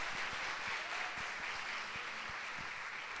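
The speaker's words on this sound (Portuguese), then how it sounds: "Aplauda o Senhor." Church congregation applauding the Lord during a service, a soft, steady wash of clapping heard faintly from a distance with no voices over it.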